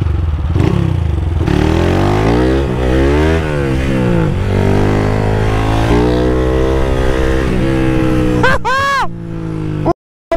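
A Start 230 motorcycle, capable of 200 km/h, revs hard on the street, its engine pitch climbing and falling in loud repeated sweeps; excited voices shout over it before it cuts off abruptly.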